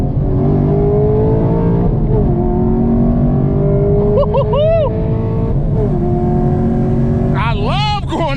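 A Chevrolet Camaro SS pulls hard on a highway, its engine note climbing steadily through the gears with loud, close rumble and rising whine, a shift dip between pulls and wind noise throughout.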